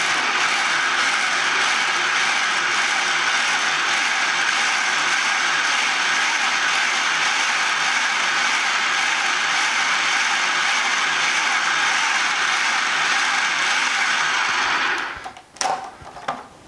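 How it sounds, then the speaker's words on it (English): A food processor runs continuously on garlic and parsley, a loud, close, grinding whir that stops abruptly near the end and is followed by a few clatters. "put the cover on it and just pulse it"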